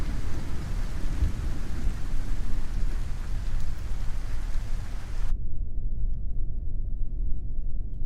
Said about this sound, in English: Oh, here comes the rain. We'll let this thunderstorm pass.